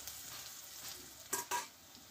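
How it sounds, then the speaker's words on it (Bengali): Onion and garlic frying lightly in a pan, a faint continuous sizzle with two short louder scrapes of a spatula near the end. "পেঁয়াজটা খুব কড়া করে ভাজবো না, একটু কাঁচা কাঁচা থাকবে রসুন পেঁয়াজটা দুটোই"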